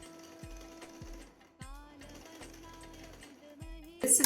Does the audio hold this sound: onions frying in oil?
no